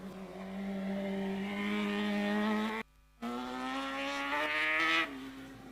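A rally car engine and its tires at an RX motorsport round, droning loudly with a steady, strained tone that cuts out briefly, then returns and climbs in pitch as it revs.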